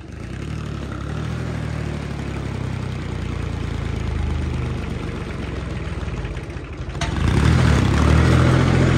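A Sonalika mini tractor engine idles throughout with a low, rumbling drone, then grows louder and rougher near the end as it revs up.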